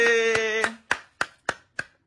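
Hand claps ring out in a home setting with a small child, about five sharp, evenly spaced claps following a brief vocal sound at the start.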